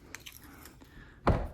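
Hidden door for a secret room, hung on a spring hinge with magnets, closing with a soft scuffle followed by a single sharp, close thump-click at the end.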